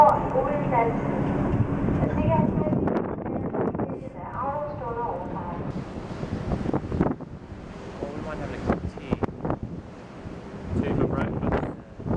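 Gusting wind buffets the microphone over rolling sea surf, with voices talking intermittently through the steady roar.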